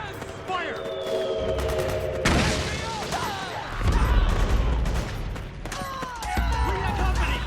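Dense gunfire and explosions from a Metal Gear video game battle, with continuous bursts of shots and booms heard close and loud, mixed with shouted voices.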